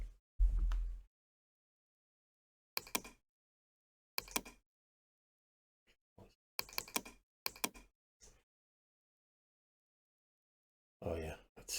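Short bursts of typing on a computer keyboard while drafting a 1:1 scale bellows leather cutting template, coming in scattered clusters of quick clicks separated by long silent gaps, fairly close.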